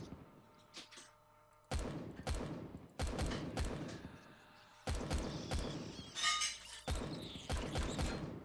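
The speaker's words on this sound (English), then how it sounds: "I'm going to load this one up manually and just manually shoot it." Manually operated sentry gun in the video game Empyrion fires in separate loud bursts, about six sharp blasts each trailing off in mechanical rattle, spaced a second or two apart over a quiet background.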